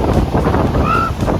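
Strong wind blows along the rough monsoon sea at San Sebastián, a loud continuous roar of gusts against the microphone over crashing surf, with a brief gull-like cry partway through.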